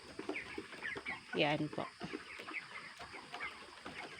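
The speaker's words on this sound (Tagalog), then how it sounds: "Yan po lahat yung mga manok na ating kakatayin doon." A flock of broiler chickens clucks steadily in the background of a poultry farm, soft overlapping calls with a person speaking briefly over them.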